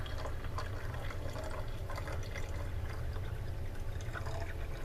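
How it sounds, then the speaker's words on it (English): Steady rush of water running into a bottle, a continuous bubbling, splashing flow with no voices, close and moderately loud. "letting water come into this bottle"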